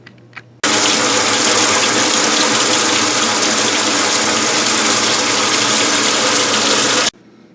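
A Maytag Neptune washing machine, just fitted with a replacement pump, starts abruptly with a steady loud rush of water and machine noise, runs continuously for several seconds, then cuts off.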